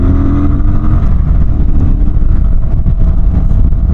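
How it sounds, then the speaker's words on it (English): Kawasaki Vulcan 900 Classic LT cruiser motorcycle at about 60 mph in fifth gear, a loud, steady low exhaust rumble from the pipes mixed with wind, continuous throughout. "You can hear those pipes"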